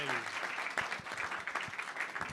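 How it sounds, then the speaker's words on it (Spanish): Audience at a Mexico City personal finance event gives a round of applause, a short burst of moderately distant clapping with a few distinct claps, a voice briefly audible at the start. "les pido un fuerte aplauso"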